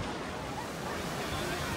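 Surf washing onto a sunny Florida beach, a steady broadband wash of waves with wind noise, continuous and fairly loud with no distinct breaks.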